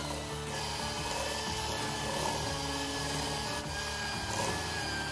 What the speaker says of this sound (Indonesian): mixer adonannya sampai lembut dan halus.